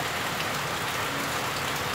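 Steady rain falls throughout on an outing to check snake traps during the rainy season, a continuous broadband hiss with no voices.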